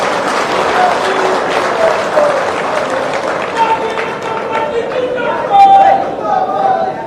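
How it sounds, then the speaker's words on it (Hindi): A large crowd at a youth dialogue event in Jaipur breaks into sustained loud applause and cheering to welcome the Rajasthan Chief Minister, while a voice speaks over the din throughout. "जोरदार तालियों से स्वागत, अभिनंदन।"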